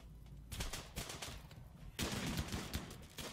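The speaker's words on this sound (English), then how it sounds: "It's this fucking, like, funnel of gunfire and bullets." Bursts of rapid gunfire from the video game RimWorld crackle in quick succession, growing denser and louder halfway through, like a firefight in a game.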